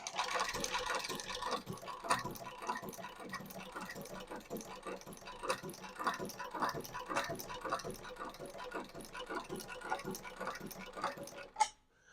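Heavy duty shoe patcher sewing machine, Cowboy 7360 or Claes 834, running smoothly in a demo, with a fast steady ticking stitch rhythm throughout and a sharp stop near the end.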